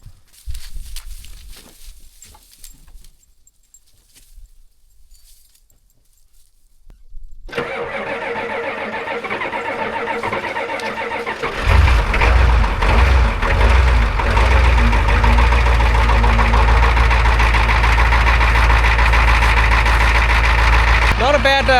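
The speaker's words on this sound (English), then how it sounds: "Not a bad cold start from 8 months of sitting idle here." A 1989 7.3-liter diesel engine cranks over cold after eight months of sitting, catches with a loud jump in level and settles into a steady, heavy idle close by, following several seconds of near-quiet with faint footsteps.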